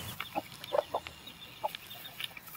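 Soft, scattered clucks and chirps from baby chicks and chickens, several short calls spaced irregularly, fairly faint with quiet background.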